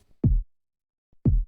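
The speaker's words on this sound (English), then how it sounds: "This is just a little sub-kicky kind of sound." Two short, deep sub-bass kick thumps from a bus simulator game menu, about a second apart, each punchy and quickly fading, with silence between them.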